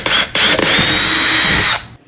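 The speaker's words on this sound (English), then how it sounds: "After the pilot holes are drilled, go ahead and use your 1/4-inch drill bit." A power drill with a 1/4-inch bit whirs loudly up close, two brief starts followed by a sustained drilling run that cuts off abruptly.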